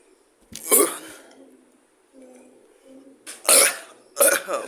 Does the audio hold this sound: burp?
yes